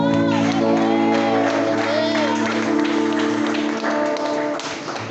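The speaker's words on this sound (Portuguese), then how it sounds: "Pode bater as palmas." A church congregation claps during a Bible reading and sermon, with a steady patter of hands running under sustained music or singing tones and scattered voices calling out, loud and continuous throughout.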